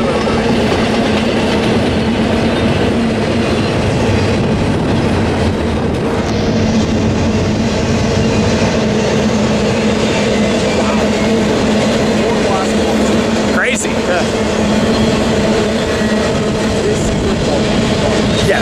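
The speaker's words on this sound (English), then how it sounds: "Oh, that's a short train." A short freight train rumbles past near Barstow, a loud continuous roar of wheels and cars with clickety-clack and a brief squeal, and voices are heard at points over it.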